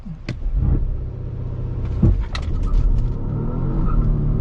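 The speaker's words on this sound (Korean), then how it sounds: "S90T8 론치 스타트 해볼게요" A Volvo S90 T8 Recharge plug-in hybrid's engine rumbles low and then surges as it pulls away hard in a launch control start on a mountain road, the motor note building steadily with a few sharp clicks and thumps.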